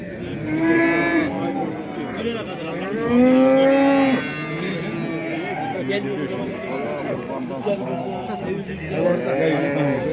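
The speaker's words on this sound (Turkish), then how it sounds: "iki tane inek var" Cows at a livestock market in Yıldızeli, Sivas, Turkey low with long, loud moos close by, one after another, over steady crowd chatter and voices talking.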